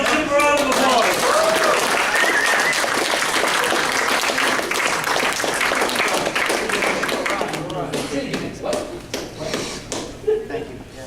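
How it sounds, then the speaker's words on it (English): A crowd at an open mic comedy show applauds, dense clapping filling the room and gradually thinning toward the end, with some voices mixed in. "Guys, let's give them a round of applause."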